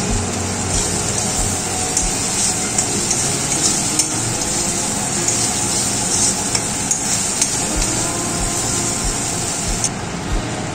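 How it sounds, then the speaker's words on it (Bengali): Prawn curry masala with cashew paste stir-fried in a pan, a steady close sizzle with scraping stir strokes running continuously throughout, no talking. "এবার দিয়ে দিচ্ছি কাজু বাদাম বাটা। এবার আবারও কষিয়ে নিতে হবে।"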